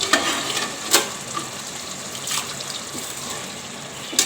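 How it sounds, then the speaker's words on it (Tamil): Ginger garlic paste sautéing in a pan for Tamil country chicken kulambu, with chicken pieces added: a soft steady sizzle marked by a few brief clattering stirs and bumps, close and fairly quiet, with no talking. "இப்போ வந்து அது வதங்க ஆரம்பிச்சிருச்சுங்க இஞ்சி பூண்டு பேஸ்ட்டு"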